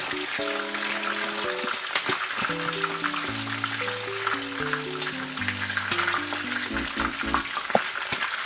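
Hot oil sizzles and spatters in a pan of sautéed mung beans with cabbage, a steady bright crackle with occasional pops, while music plays over it.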